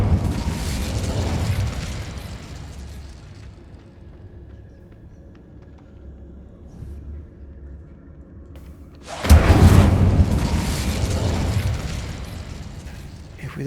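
A fire spell cast in a wizard video game erupts in a loud, roaring burst of flame, preceded by a fading rush of fire and a long quiet stretch with a low ambient hum.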